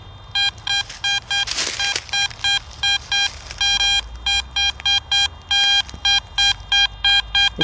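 Repeated bright electronic beeps from a Garrett AT Max metal detector signaling a solid, consistent target at a Depression-era shanty town site, pulsing in a steady rhythm with one clean, unwavering tone and no wavering or roll.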